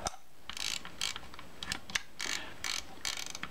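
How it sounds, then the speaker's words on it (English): Take-up spool knob on a Kodak Retina II type 014 camera being tightened by hand, a series of small, close, crisp ratcheting clicks coming in short uneven bursts. "Tighten down that knob with your fingers, turning it"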